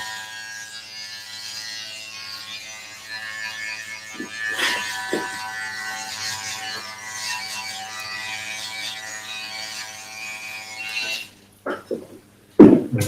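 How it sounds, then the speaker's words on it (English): An electric foil shaver cuts hair with a continuous close buzz for about ten seconds, a few faint clicks underneath, before it stops and some handling knocks follow. "Now I hit foil shavers."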